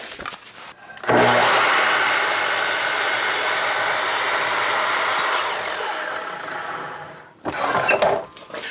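A power saw cuts through a glued-up board in one long whining pass of about six seconds that eases off toward the end, followed by a brief second burst, with no speech.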